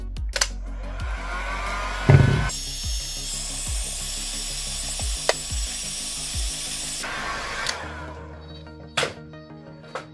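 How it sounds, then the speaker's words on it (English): A heat gun's steady blast of hot air roars for several seconds during an iPhone 13 Pro screen repair, between clattering tool and wood-rubbing noises, then cuts off, leaving scattered knocks. "So the way that I do that is by using a heat gun."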